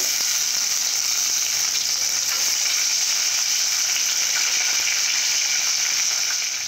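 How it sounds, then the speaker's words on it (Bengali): Loud, constant hiss and crackle of fish frying in hot oil in a kadai, close and unbroken throughout. "তো আমি মাছগুলো ভালো করে ভেজে নেব।"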